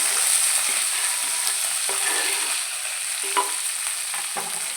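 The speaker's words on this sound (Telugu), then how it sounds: "ఇప్పుడు బాగా ఫ్రై చేస్తున్నామండి ఇదిగోండి ఉల్లిపాయలు బాగా ఫ్రై అయిపోయినాయి కదా" Onions with green and dried red chilies fry in a pan for a fenugreek-leaf and potato dish, a steady bright sizzle running throughout with occasional scraping stirs, close and alone with no voices.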